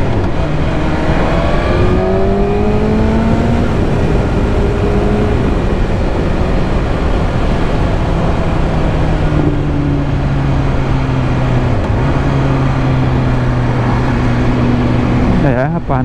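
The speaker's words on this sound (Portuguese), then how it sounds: "Rapaz, na hora que o escape abre, o Akrapovic berra." BMW S1000RR sport motorcycle fitted with an Akrapovic exhaust, riding on Michelin Power Cup 2 tyres, roars steadily and loudly throughout, its engine pitch rising and falling with speed and wind rush close by.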